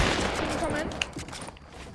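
Rapid gunfire from the video game Fortnite crackles through a 1v1 match, a dense run of shots with one sharper crack midway, set against a busy game background.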